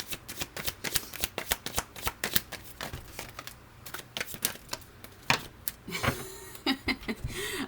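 Tarot cards are shuffled up close in a rapid run of crisp, papery slaps and flutters, with a faint voice near the end.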